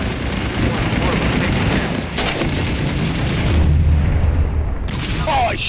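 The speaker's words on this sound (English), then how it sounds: "I shot that guy and his RPG went off on him" Gunfire and an RPG blast in the Six Days in Fallujah video game, with loud booms and crackling shots stacked over a dense battle din.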